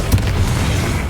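A Confringo fire spell in the Hogwarts Legacy video game erupts as a loud, close, deep boom with a sharp opening burst and a rumbling, noisy tail that fills the whole moment.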